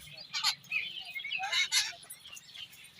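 A crowd of small birds chirps and squabbles while feeding outdoors, bursts of close, bright calls overlapping in irregular flurries with brief pauses between them.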